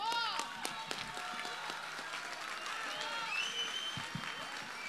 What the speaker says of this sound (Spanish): Un aplauso más fuerte, por favor, a Tomás.